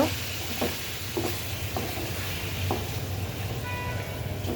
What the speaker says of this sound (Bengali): জিরা ধনিয়া এলাচ দারচিনি এগুলো দিয়ে দিলাম এখন কষিয়ে নেব